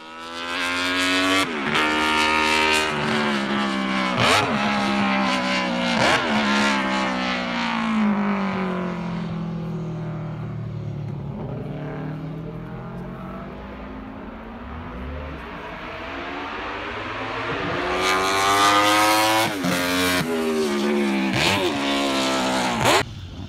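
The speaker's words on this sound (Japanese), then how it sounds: "ちょっと排気量が大きい4気筒だとこういうエンジンの音になります" A Honda RCD1000 four-cylinder endurance racing motorcycle runs loud and close, revving repeatedly in sharp bursts, easing to a steadier lower drone in the middle, then rising again into high-rev screams.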